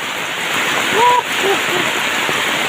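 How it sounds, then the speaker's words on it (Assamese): Steady, heavy rain hissing all around, with a brief voice breaking in partway through, water pooling on the ground. "তামাম বৰষুণ দিছে চোৱা মাই গড মই চাফা লৈ আছো চোৱা তামাম বৰষুণ ফাটা ফাটেই বৰষুণ"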